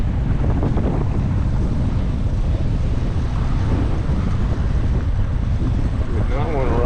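Steady, heavy wind roar buffets the microphone throughout on an autumn motorcycle ride, broadband and unbroken, with a faint tonal whine near the end.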